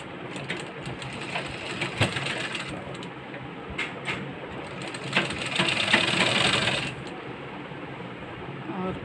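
A domestic sewing machine stitches a waistline belt blouse, its mechanical whir and needle clatter running in bursts with short pauses, close and fairly loud.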